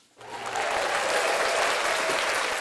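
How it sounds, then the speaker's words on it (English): A round of applause from a live audience bursts in after a short silence and keeps up as dense, even clapping at a steady loud level. "Started off for a round of applause."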